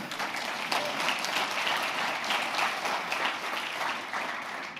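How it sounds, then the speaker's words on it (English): A church congregation breaks into a sustained round of applause, dense and steady from start to finish, with many hands clapping together throughout the room. "So one more round of applause for them"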